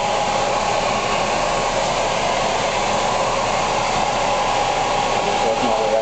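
A heat gun blows a steady, loud, unbroken rush of air onto vinyl covering on a cabinet to soften the glue.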